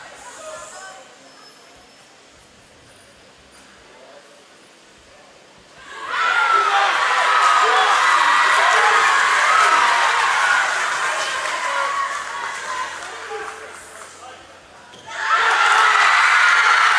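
A loud crowd at a weightlifting competition erupts in cheering and whooping, swelling for several seconds, easing off, then roaring again near the end after a quieter stretch.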